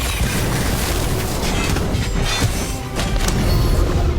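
Incendio fire spell cast in Hogwarts Legacy combat, a loud, noisy burst of roaring, crackling flame with thumps throughout, no talking.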